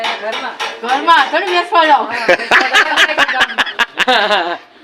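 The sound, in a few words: metal utensils clattering as they are carried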